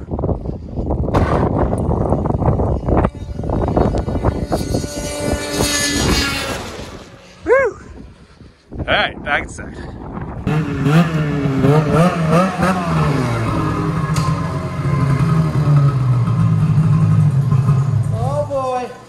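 Engine after a swap, on a machine with racing slicks, starting up and revving, with clattering mechanical noise, a brief drop near eight seconds, then steady running and rising revs while people talk loudly over it.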